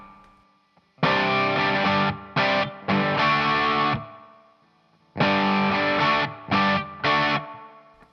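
Distorted electric guitar plays a chugging rhythm riff, loud and close: a long chord, then two short stabs and another sustained chord, repeated twice with brief gaps.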